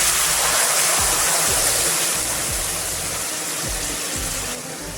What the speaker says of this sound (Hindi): थोड़ा सा पानी ऐड कर देंगे।